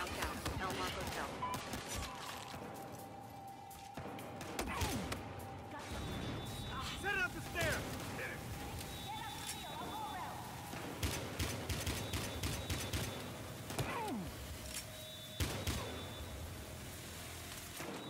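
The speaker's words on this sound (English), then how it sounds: "13 reporting gunfire downtown." Gunfire in the video game Battlefield Hardline during a downtown shootout near a hotel: bursts of rapid shots and sharp cracks scattered across a busy combat mix with mechanical clatter and intermittent voices.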